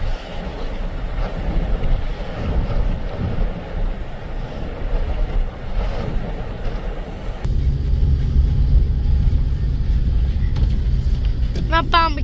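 Wind and waves buffet a boat in a stormy sea, with a steady roar of gusts and surf that grows heavier and louder partway through, and faint voices mixed in under the noise.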